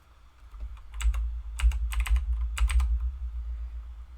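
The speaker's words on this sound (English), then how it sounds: "you guys can let me know if that changes the keyboard" Keys clatter on a computer keyboard during a Windows Vista session, arriving in quick clustered bursts of crisp clicks with short pauses between them, close and clear over a low hum.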